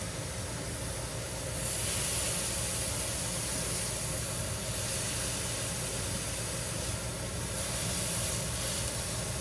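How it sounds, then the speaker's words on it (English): Burger patties sear in a hot pan with a steady, close hiss and crackle, the sizzle swelling at moments over a constant hum from a kitchen vent fan, with no talking. "While these burger patties are searing"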